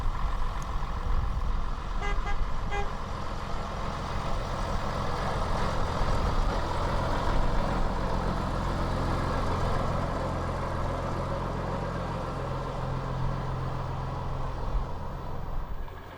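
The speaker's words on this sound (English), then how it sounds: "Background comes the Lockheed's AEC Regent, making everybody happy with a little toot the horn" AEC Regent vintage bus at a Beamish transport event, engine rumbling steadily as it drives past with a couple of short horn toots early on, moderately distant amid outdoor background noise.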